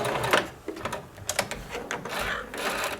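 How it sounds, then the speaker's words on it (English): A sewing machine stitches across the top of a boxer-shorts pocket in short, uneven bursts of whirring needle chatter, fairly quiet and close, with no talking. "you're going to sew right across the top and reverse at the end"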